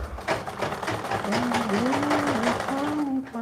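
A sewing machine stitches a woman's shirt in a short continuous run, its motor humming close by, with a person speaking over it.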